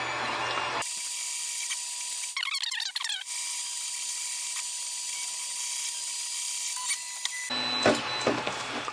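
A 3D printer nears the end of a medium-quality print at 0.2 mm layers, giving soft whirring motor movements and a brief burst of rapid stepper chirps, then a louder mechanical clatter near the end.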